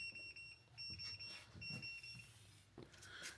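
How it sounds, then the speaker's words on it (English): Ford Mustang low tire pressure warning, a thin high electronic beep repeating a few times at moderate level over quiet background rustle and light handling noise. "as of right now, it's beeping because my front passenger is low"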